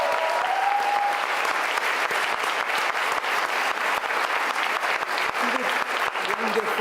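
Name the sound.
audience applause for the MC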